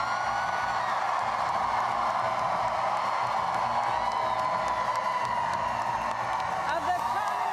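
An electric crowd of supporters cheers continuously at a governor-elect's election-night victory address, a steady, loud wash of shouting, whooping and clapping that never lets up.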